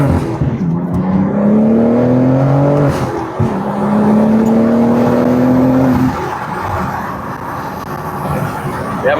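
A BMW G82 M4 with a six-speed manual and modified exhaust pulls hard along back roads, the engine note climbing through two gears with a clear shift gap, then dropping to a quieter cruise rumble.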